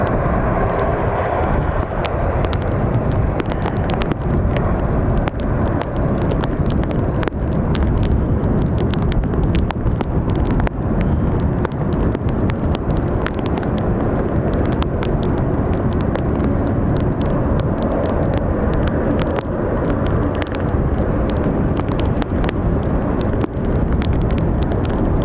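A US Air Force jet with CFM International engines takes off, a loud, steady broadband engine roar filling the whole stretch with heavy wind buffeting on the microphone.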